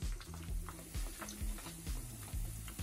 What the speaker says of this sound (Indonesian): saya goreng tahu dulu ya